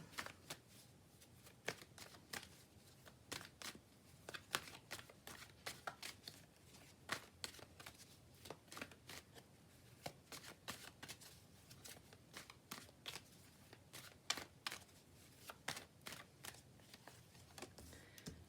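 Tarot-style cards are shuffled and swapped during a card reading, producing quiet, rapid flicking riffles and soft snaps in irregular bursts, close up and faint, with no speech.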